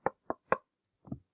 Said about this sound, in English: you hear a knock on the door leading into the fourth floor offices